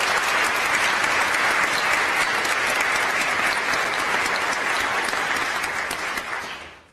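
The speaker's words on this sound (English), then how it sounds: "if we could please give a last round of applause to all of our award winners today" A crowd at a pro bono awards ceremony gives the award winners a long, full round of applause, steady and dense throughout before fading out at the end.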